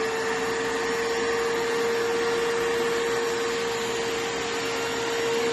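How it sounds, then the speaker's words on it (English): Wet/dry shop vacuum running steadily while sucking water out of a home water heater, a loud constant motor whine with a strong steady tone and airy rush throughout; no speech. "you turn on your vacuum and start sucking it up"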